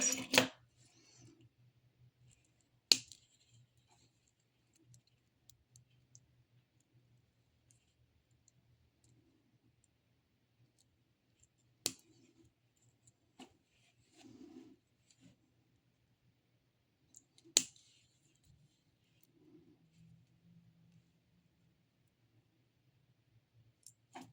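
Nails trimmed with clippers during a full-set manicure using a bead box, heard as a few sharp isolated clicks spaced seconds apart against near silence, with faint soft handling sounds between them.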